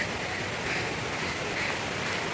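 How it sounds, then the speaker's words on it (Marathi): Rain falls steadily outdoors at Bhandardara during the monsoon, a continuous even hiss with no breaks that fills the whole moment. "पाऊस पडतोयच"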